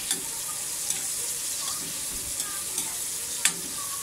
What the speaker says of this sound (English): Gisa natin ang ating onion at garlic with tomato.